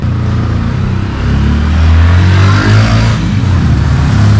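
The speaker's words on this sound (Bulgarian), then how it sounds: "И тук доста се заиграват с моторите обаче." Motorbikes rev along a street in Colombia, giving a loud, steady engine roar with swelling throttle bursts and no voices.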